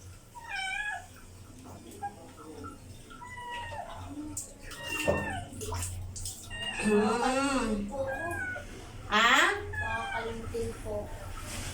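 A cat meows repeatedly, with rising, wailing cries that come in bursts while it is bathed with shampoo, and people talk close by.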